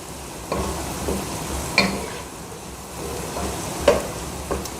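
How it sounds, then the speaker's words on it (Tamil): Tomatoes sauté in a pan for veg pasta, giving a soft steady sizzle with a few faint spoon scrapes and taps as they are stirred, nearby and fairly quiet. "அப்படியே 2 நிமிஷம் வதக்கிட்டு இருக்கலாங்க"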